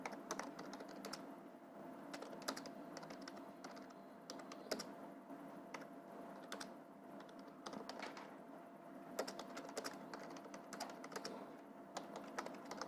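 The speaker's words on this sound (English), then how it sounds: "This is the paragraph I'm typing from page number 57 of your book." Steady typing on a computer keyboard, with rapid irregular key clicks running continuously at moderate volume with no talking over it.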